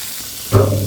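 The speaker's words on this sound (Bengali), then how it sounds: "বেগুনটা কিন্তু আমি কেটে হলুদ লবণ দিয়ে মেখে নিয়েছি আর এখন কিন্তু আমি সুন্দর করে ভেজে নেব" Eggplant pieces coated in turmeric and salt hit hot oil in a pan, a brief close burst of sizzling hiss that rises suddenly midway.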